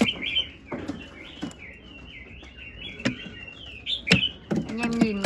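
A songbird, a male mộc kept for sale, chirps in quick, bright bursts and short tweets at close range. Someone speaks in the background with some clattering.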